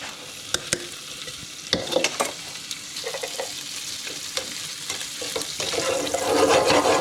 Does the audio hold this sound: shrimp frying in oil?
yes